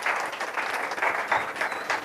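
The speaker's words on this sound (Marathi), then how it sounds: "यांच्यासाठी टाळ्या वाजूया जोरात" Congregation at a church service applauding loudly, a brief burst of many hands clapping in quick uneven rhythm, filling the room with no talk over it.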